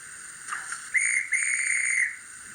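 A steam whistle from an Oxford Rail Class N7 model locomotive gives a brief thin toot, then a steady shrill tone held for about a second, fairly faint against a quiet background.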